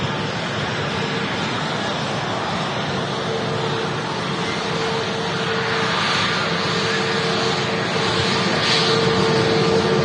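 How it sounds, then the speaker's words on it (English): Airbus A320neo airliner taxiing at Manchester Airport, a steady, fairly quiet engine drone with a faint whine, heard from a distance and holding level for the whole stretch. "It's an A320 Neo. Nice quiet taxi there from the Neo."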